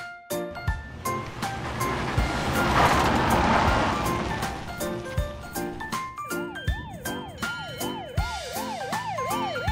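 A fire truck siren wails in rising and falling sweeps, with a horn blast and rumbling engine noise beneath, loud and close.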